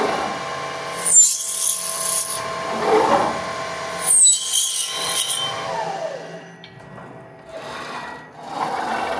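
A programmed workshop machine drills a row of holes in a metal profile, with repeated bursts of high whining drilling separated by quieter mechanical movement, close and fairly loud.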